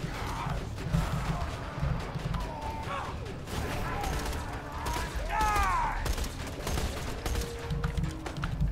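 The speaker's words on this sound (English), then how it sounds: "Something shooting rockets out." A video game battle in which rockets are fired, with rapid gunfire bursts, whooshing launches and crashing impacts filling a chaotic mix, while people talk over the action.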